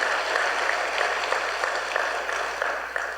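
A church congregation at a worship service clapping steadily, a moderate, even wash of applause lasting a few seconds with no voices over it.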